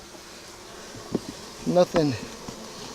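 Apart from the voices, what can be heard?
bees buzzing during beehive inspection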